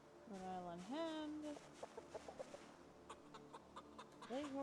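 A Leghorn hen in a zombie video game's backyard garden lets out a drawn, rising squawk, then a string of short soft clucks, with a person speaking at the start and end.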